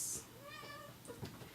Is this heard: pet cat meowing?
yes